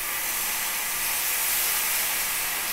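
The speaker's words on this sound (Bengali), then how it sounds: "এই দেখো জলটা এখানে অ্যাড করে দিচ্ছি" Water hits a hot cooking pan of fish curry, giving a loud, steady, steamy hiss that fills the whole stretch without any voices.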